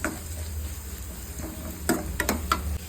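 Onions frying in a pan for egg fried rice, a steady sizzle with stirring clinks and scrapes near the end, close and moderately loud with no talk.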